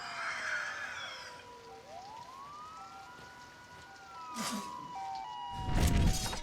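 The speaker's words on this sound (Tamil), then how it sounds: "ஒரு ஆம்புலன்ஸ் வந்து போகிற மாதிரி வந்து காமிச்சிருக்காங்க" Ambulance siren in a rainy night street scene from the movie Joker, a wailing tone sweeping up and down as it passes, with steady rain hiss underneath and a louder rumble near the end.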